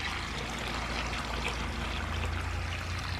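Water pours steadily into dry concrete mix packed into a fence post hole, a continuous close trickling and splashing with no voices.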